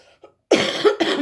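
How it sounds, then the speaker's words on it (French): A person with the flu coughs a few times in quick succession, harsh and close, after a brief quiet breath. "Pardon, je tousse encore."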